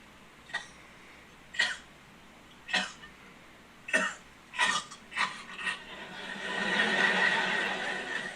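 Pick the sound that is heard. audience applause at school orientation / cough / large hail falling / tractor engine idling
cough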